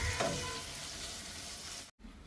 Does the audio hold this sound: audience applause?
no